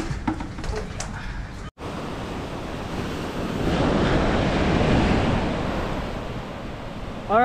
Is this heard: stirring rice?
no